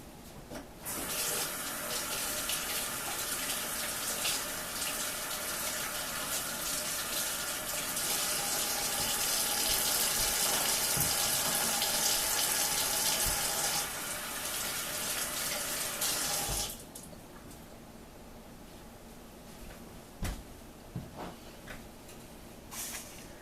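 A kitchen tap runs steadily for about seventeen seconds while fruit is washed for a pie. The water stream is close and hissing, then it cuts off, leaving quiet room tone with a few light knocks.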